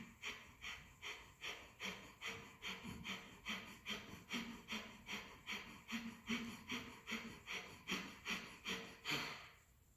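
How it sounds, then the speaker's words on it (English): Quiet, rhythmic pranayama breathing exercise with about twenty quick, even breaths in steady succession, each a soft airy rush. "breath in, long breath out."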